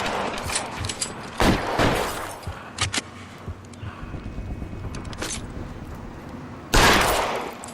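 Gunshots from the crime game L.A. Noire: a few sharp, loud reports spread across the clip, with a heavy final burst near the end, over a steady background of game ambience and no speech.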